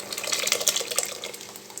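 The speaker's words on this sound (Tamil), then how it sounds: "சிறுபருப்பு தண்ணி ஊற்றப்போகிறோம் பருப்பு ஊற்றப்போகிறோம்" Water from split lentils is poured steadily into a cooking pot, a continuous splashing gurgle, close and moderately loud.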